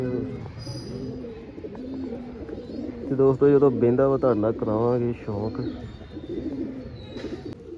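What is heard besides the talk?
pigeon cooing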